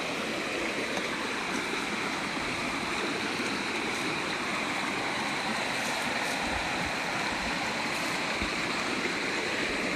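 Cold mountain river water flows steadily past, a dense continuous rushing and babbling close by with no pauses or talk.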